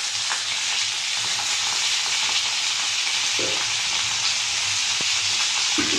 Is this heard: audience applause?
no